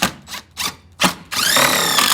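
A power drill drives a 1 3/4 inch screw through wood into a steel stud on a ramp transition flap: three short whirring bursts, then a louder sustained grinding whine as the screw bites, close up and without speech.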